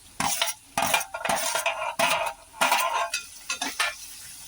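Finely chopped carrot and capsicum with onion sautéing in a pan while being stirred, a series of loud scraping strokes with a spoon over a light sizzle, each pass separated by short pauses.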